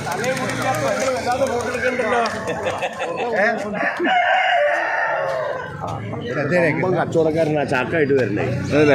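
Native chickens and roosters crow and cluck repeatedly, close and loud, at a busy Sunday poultry market in Perambra, with people talking continuously among the birds.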